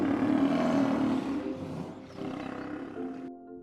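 A lion roars loudly and continuously for about three seconds, a deep rumbling call close to the microphone that fades into a lower growl at the end.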